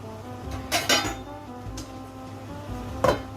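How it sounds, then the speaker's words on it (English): A lid goes back onto a cooking pan: a few quick metallic clinks and clatters close by, with a final bright clank near the end, over quiet kitchen background. "Pop the lid back on."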